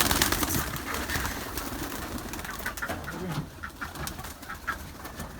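Pigeons on a rooftop garden where chickens are also kept, soft cooing and fluttering under a constant hissing background.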